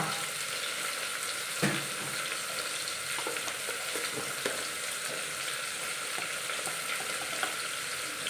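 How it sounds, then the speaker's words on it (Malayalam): Chopped onion, tomato and green chili fry in hot coconut oil with a dense, steady sizzle for egg curry, while occasional soft spatula taps and scrapes stand out near the pan. "വെളിച്ചെണ്ണ ചൂടായി വരുമ്പോഴത്തേക്കും നമുക്ക് സവാള തക്കാളി പച്ചമുളക് എല്ലാം ഉണ്ടാക്കിയിട്ട് അകത്തേക്ക് ഇട്ട് കൊടുക്കാം"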